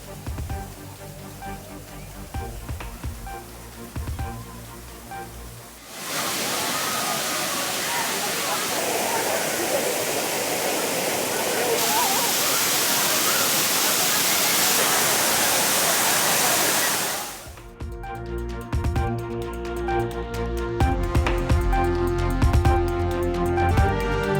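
Thiruparappu waterfall in Kumari district, busy with holiday tourists, gives a dense steady roar of falling water for about twelve seconds, set between stretches of spoken news narration.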